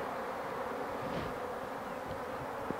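Honey bees buzz continuously at a Kenyan top-bar (KTB) hive, a soft, even drone heard close and alone.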